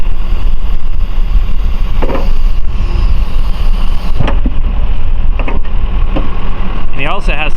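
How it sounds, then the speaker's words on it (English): A backhoe with an extend-a-hoe and stabilizers down, working on logs, rumbles steadily and loudly as its hoe bucket is pushed out for extra reach. A voice is briefly heard near the end. "He's extending that bucket way out so he has a further reach."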